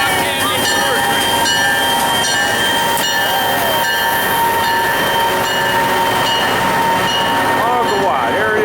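Agawa Canyon tour train standing nearby with a steady rail rumble, squealing wheel tones and clanking cars, while people chatter in the background.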